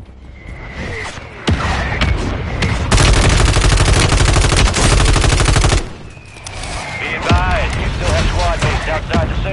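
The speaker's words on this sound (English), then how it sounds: "Requesting fire mission. Target marked. Copy your mark. Mortar strike inbound." A mortar barrage in the Modern Warfare 3 video game lands as a loud, dense stretch of rapid blasts and rumble lasting a few seconds, with game voice chatter on either side.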